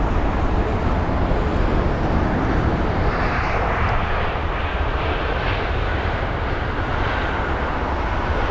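Singapore Cargo Boeing 747 landing at London Heathrow at sunset, a loud continuous jet engine roar that fills the whole span, broad and steady as the aircraft passes nearby.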